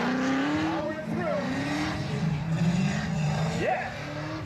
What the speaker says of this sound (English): I'll let you watch some of this drifting that I recorded.